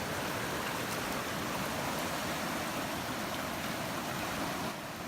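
A river fed by the crater lake outlet of an active volcano flows past, its water giving a broad, steady rushing hiss, close and continuous with no voices.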